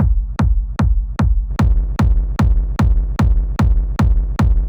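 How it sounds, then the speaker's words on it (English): Hard techno kick drum made of punch and character layers, played first clean and then with saturation, a steady run of about twelve loud pounding hits that grow grittier and brighter partway through. "So we can go to the group that groups together the kick punch and kick character and add a little bit of saturation."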